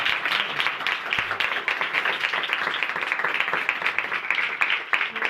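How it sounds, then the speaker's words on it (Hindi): A congregation at a church service bursts into loud, vigorous applause after a closing prayer, a dense continuous roar of many clapping hands with sharp individual claps throughout. "आज की सारी बरकत के लिए जोरदार तालियां।"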